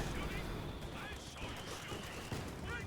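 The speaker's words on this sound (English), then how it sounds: "I've been hearing those AT gunshots quite a bit" Anti-tank gunfire in the World War II strategy game Company of Heroes 2, repeated shots set in a dense bed of battle noise and explosions, under someone commentating on the match.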